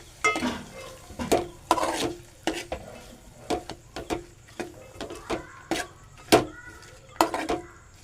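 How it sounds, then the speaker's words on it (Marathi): Valpapdi beans being sautéed in a pan, with repeated sharp scrapes and clanks of a spatula stirring against the metal over a faint background sizzle, close up and steady. "परतून घेऊ आपण."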